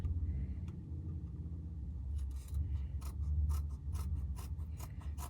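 Scissors cutting pieces for a Samoyed therian mask, a series of short crisp snips that speed up into a quick irregular rhythm, close and fairly quiet, with no talk.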